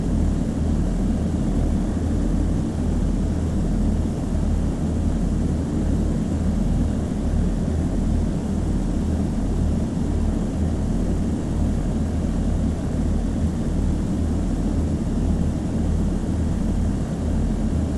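In the Flight Sim World video game, a Piper aircraft engine drones steadily and loudly, a continuous unbroken hum with no speech.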